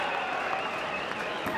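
Cheering and applause from a North Adelaide supporter at an Australian rules football match in the SANFL, Glenelg against North Adelaide, a steady crowd roar with no distinct breaks.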